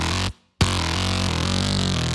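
A distorted FM synth bass made in FL Studio without the Trash 2 plugin, playing loud and continuous with a brief drop to silence near the start before the bass returns.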